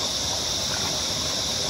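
Water flowing into the pool at Kondalilla Falls on Australia's Sunshine Coast, a soft, steady hiss of falling and running water heard at a distance, continuous and fairly quiet, with no voices.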